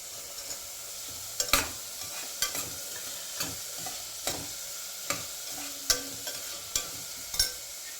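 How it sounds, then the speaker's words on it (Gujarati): Vegetables sautéing in a pan for vegetable dalia khichdi, with a low steady sizzle and a spoon stirring and tapping against the pan in regular strokes roughly every second, close and alone. "બે મિનિટ સુધી સાતળી લેવાના છે બધાને"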